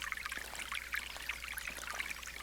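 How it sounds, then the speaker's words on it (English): A gentle, slow forest stream bubbles and trickles quietly nearby, a soft continuous babble with small splashing droplets. "It's just bubbling, not a powerful stream, but just a gentle,"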